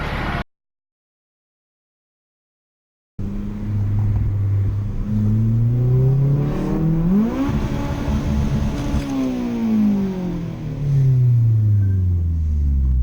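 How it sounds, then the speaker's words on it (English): A Honda Civic Type R EP3 engine with an Injen cold air intake hums steadily from inside the cabin, its pitch rising and falling as it accelerates and shifts gears, after a brief silent gap. "Cut to the montage of me driving the car a bit."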